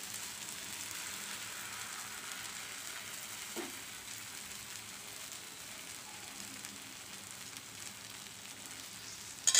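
Wheat and rice flour dosa batter on a hot pan gives a faint, even sizzle with light crackle, one soft scrape near the middle and a sharp knock at the very end.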